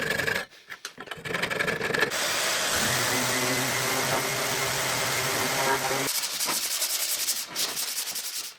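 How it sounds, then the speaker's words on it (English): Power sanding of wooden workbench top pieces to bring them flush, a loud steady abrasive whir running for several seconds, with brief handling noise before and after. "Once they're in place, I sand them flush with the rest of the top."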